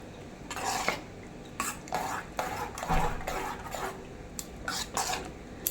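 Pumpkin payasam being stirred in a pot, a ladle scraping and swishing through the thick mixture in repeated strokes, fairly close and steady with light clinks against the metal.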